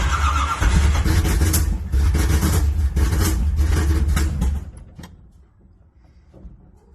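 A Porsche 944 racecar fitted with a Chevy small-block engine cranks and roars loudly and close for several seconds, then cuts out abruptly and leaves faint rattles and ticks.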